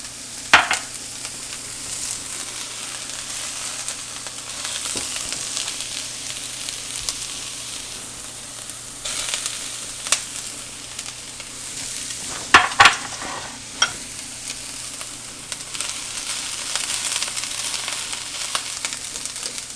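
Garlic and ground beef cooking in a pan for baked spaghetti, a continuous close sizzle with a few sharp spoon scrapes and clinks against the pan.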